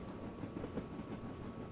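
Heavy steam train on the West Somerset Railway in the Train Simulator 2014 video game, a quiet, steady rumble of rolling wagons with faint rail clatter and no voices.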